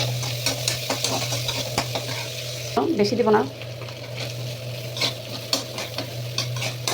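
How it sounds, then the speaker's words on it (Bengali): Onion, garlic and green chili frying in oil for a bottle gourd and hilsa fish head mash, a steady close sizzle with stirring scrapes and a brief louder burst, under a low hum while someone says a few words. "এখন ওই তেলের মধ্যে আমি পেঁয়াজ, রসুন আর কাঁচামরিচ দিয়ে ভালো করে ভেজে নেব।"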